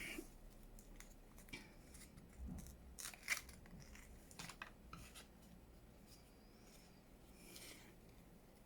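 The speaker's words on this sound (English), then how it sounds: "That doesn't seem to want to fit right, so I'll cut it off." Scissors snip paper while making a junk journal pocket, quiet close crisp cuts in scattered bursts with a few soft rustles and nearly silent pauses between them.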